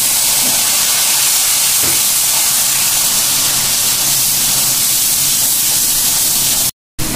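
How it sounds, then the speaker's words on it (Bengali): Hot water hitting a pan of frying spices with turmeric and cumin gives a loud, steady sizzling hiss. It holds for several seconds, then cuts off abruptly near the end. "আমি অল্প একটু গরম পানি দেব।"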